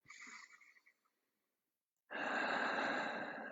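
Deep breath drawn in and let out during a guided standing exercise, a soft airy exhale fading out, then after a pause a long, strong broadband inhale, close and steady, with no talking.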